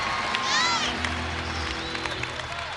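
Sellout basketball crowd of about 12,575 at the Pan-Am Center in a New Mexico State game, a broad sustained crowd roar with whistles and shouts rising and falling, loud and close, with a voice talking over it.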